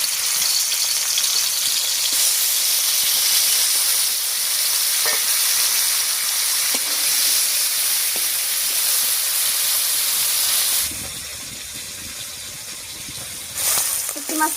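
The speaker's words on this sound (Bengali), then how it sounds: "এবারে হলুদ লবণ মাখিয়ে হালকা করে ভেজে নেব" Dried fish coated in turmeric and salt fries in a little mustard oil in a wok, giving a steady, close, loud sizzle and hiss with faint stirring clicks that drops to a quieter crackle near the end.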